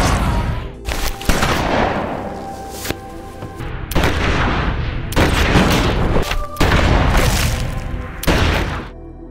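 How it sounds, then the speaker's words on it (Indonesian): A gunfight in an action film shootout: dense, loud bursts of gunfire and booming blasts crash back to back with short gaps, harsh and overwhelming throughout. "tembak-tembakan"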